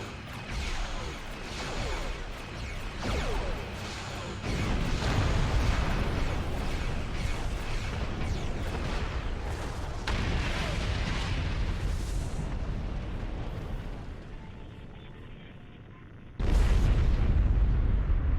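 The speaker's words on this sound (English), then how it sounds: "That was a glorious explosion!" A starship explodes in a Star Trek video game, a sustained loud roaring blast with layered booms and rumbling debris, then a sudden fresh heavy burst near the end.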